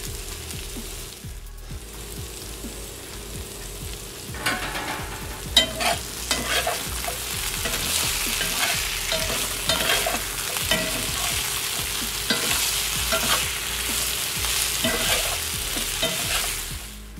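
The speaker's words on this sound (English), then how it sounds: "stir until the potatoes are nice and brown" Potatoes fry and sizzle steadily in a pan as they are stirred until brown, a continuous close hiss broken by scraping utensil strokes, with no talking.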